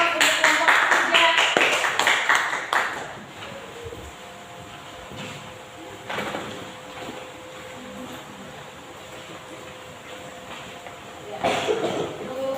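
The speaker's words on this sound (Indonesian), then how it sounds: "Berikan aplaus untuk kelompok kerja" A classroom group gives applause to the working groups: a dense burst of clapping at the start that fades after a few seconds, followed by quieter room sounds with a brief patter near the end.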